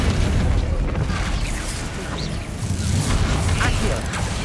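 A Bombarda blasting spell explosion in the video game Hogwarts Legacy, a loud, dense roaring burst that fills the whole clip with rumbling, crackling debris and no clear pauses.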